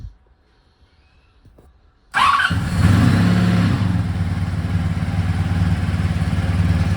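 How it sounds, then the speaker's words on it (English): A stone-cold Honda V65 Sabre VF1100S motorcycle sits quiet for two seconds, then fires up on choke and settles into a loud, steady, rumbling idle close by. "Let's have a listen to this cold start."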